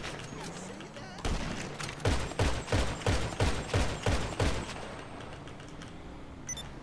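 Gunfire in GTA Online: a rapid burst of about eight evenly spaced shots over roughly three seconds, loud and close, with game ambience before and after.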